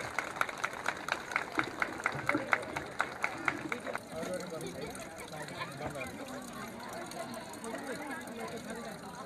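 An audience at a program opening about drinking water claps in quick, rhythmic unison for a few seconds, then the clapping stops and gives way to a low crowd murmur with voices.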